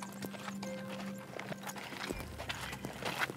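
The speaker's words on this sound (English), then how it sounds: "Hawk has brought a horse for Marie" Hooves of a horse at an Arizona ranch clop steadily up close, with a few sharper knocks and shuffles as the animal is led in for a trail ride, no voices over it.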